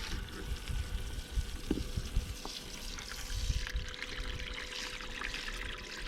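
A battery-powered aerator bubbles and circulates water in an overfilled homemade bait tank, a steady gurgling trickle and splash that runs close and continuous throughout.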